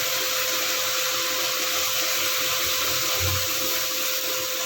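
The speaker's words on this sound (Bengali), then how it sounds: "দেখো এবার আমি পরিমাণ মতন জলটা দিয়ে দিচ্ছি।" Water pours steadily into a cooking pot for a hilsa fish and taro curry, a continuous hissing stream with a faint low thud near the end, no talking.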